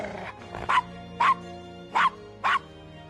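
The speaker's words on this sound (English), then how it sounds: "Nice doggy." A dog in the Gabriel Knight 1 20th Anniversary Remake video game gives four short, evenly spaced barks, close and clear over a steady background music bed.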